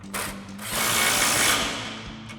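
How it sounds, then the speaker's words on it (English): An impact wrench with an 18mm socket tightens a sway bar link nut during a suspension lift install on a 2019-2024 RAM 1500. It gives a close, loud burst of rattling hammering that swells and then eases over a couple of seconds, with no other sound. "grab our impact and 18mm socket and tighten that down"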